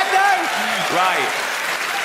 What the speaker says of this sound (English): you get a round of applause for not shitting yourself